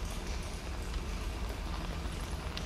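Heavy, plodding footsteps in the horror game Devotion (還願), set in a dark, rainy scene, tramp steadily and softly under a constant low rumble of rain.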